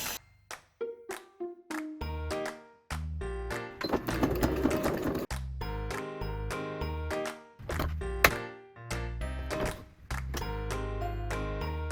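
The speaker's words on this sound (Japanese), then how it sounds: "あと上につける用の4本も面ファスナー縫い付けていきます。" A sewing machine sews hook-and-loop fastener onto belts for a camper van's pop-up roof, with rapid stitching runs broken by brief pauses and clicks.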